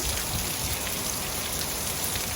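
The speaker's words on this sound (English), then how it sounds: "I'm very happy it's raining like this." Heavy rain pours down steadily, a dense, loud hiss of drops drumming on surfaces with no pauses and no voices.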